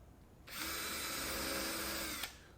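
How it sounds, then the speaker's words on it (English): Power drill pre-drilling holes for set screws in a white oak cleat, one steady high whine lasting about two seconds, close and clear against a quiet background. "Here I'm pre-drilling for some set screws that will hold the cleat in place."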